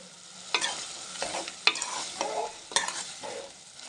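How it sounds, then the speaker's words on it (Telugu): Rayalaseema-style chicken curry cooking in a pan, with quiet bubbling under several sharp scraping stirs spaced about a second apart, close by and fairly soft. "ఇప్పుడు చూడండి ఎంత నీట్గా ఉడుకుతుందో మనకైతే చికెను"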